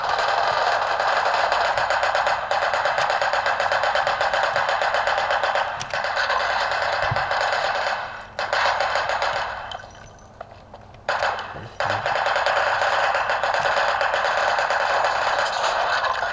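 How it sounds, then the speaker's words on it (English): Gunfire in a video game shooter: a dense, loud, sustained stream of rapid shots with a few brief breaks, heard alone without speech. "I was just randomly shooting"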